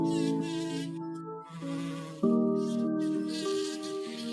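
A bumblebee drones in a close, loud, continuous tonal hum that shifts in pitch as it moves. Nothing else is heard.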